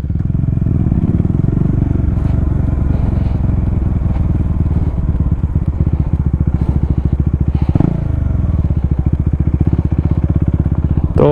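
A KTM Duke 390 motorcycle engine runs loud and close at high revs in a drag race, a dense pulsing drone held steady with a brief dip and clatter midway before the roar resumes.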